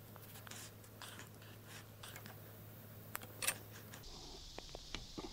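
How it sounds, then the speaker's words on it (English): Plastic zip ties cinched around battery wires while assembling a sawmill engine setup: a brief burst of quick ratcheting clicks midway, with scratchy handling noise and a steady low hum throughout. "I'm using zip ties to keep the wires together."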